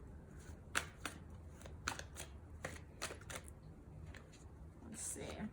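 Tarot cards shuffled and pulled during a pick-a-card reading: a handful of quiet, sharp card flicks and riffles at close range over a low background hum, with a voice speaking softly in places.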